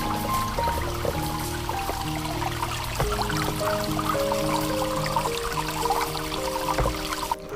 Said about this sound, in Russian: Поставил палатку специально возле ручья, чтобы он ночью шумел